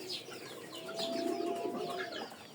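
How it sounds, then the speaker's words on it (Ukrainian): Pigeons coo in a low, throaty, rolling chorus while being fed in the evening, with soft overlapping calls rising and fading close by, plus a faint thin whistle-like tone, and no voices. "Зараз будемо кормити голубів."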